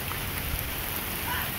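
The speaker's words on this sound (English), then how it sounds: "The rain started up again. Now it's quite heavy." Heavy rain pours steadily on a beach campsite during a kayak camping trip, a dense, continuous hiss with no breaks, fairly soft in level.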